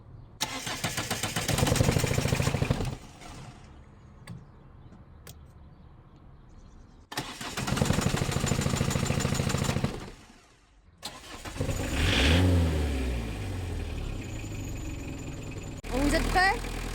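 Renault Kangoo van engine cranks and catches in repeated bursts, revving hard between quiet gaps and settling into a rough idle, close by, with people talking nearby.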